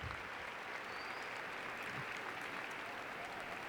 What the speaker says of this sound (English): deserve a round of applause right now